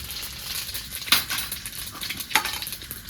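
Ajwain, two dry red chilies and cumin seeds crackle and sizzle in hot oil, a close steady fry broken by two sharp metallic clinks of a spoon against the pan.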